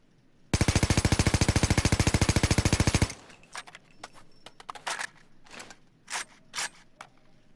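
A sustained automatic burst from an AKMSU Krinkov carbine in Payday 2, rapid and loud for about two and a half seconds, followed by scattered quieter clicks, clanks and short impact sounds.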